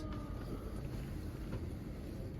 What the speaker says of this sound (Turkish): hava çok rüzgarlı. Çok rüzgar var, aşırı rüzgar var.